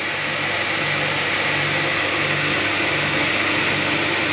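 CamVac dust extraction system with its motors running, a steady loud broadband roar with a low hum, continuous and unchanging throughout, no voices.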